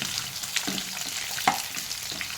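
Onions fry in a pan for a spicy onion tomato chutney, giving a steady, moderately quiet sizzle broken by a few sharper pops and spatula scrapes, with no one speaking.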